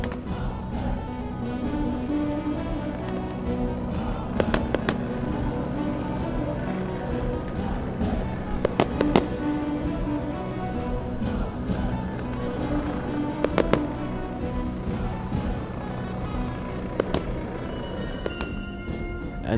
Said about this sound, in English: here's the ground pyro firing now.